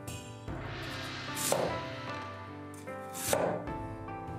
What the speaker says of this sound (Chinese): 然后把萝卜切成薄片